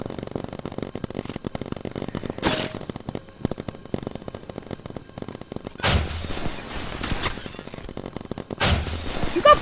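Paintball guns fire in a Roblox game, a dense volley of sharp popping shots in bursts, loud and close, with heavier blasts in the second half.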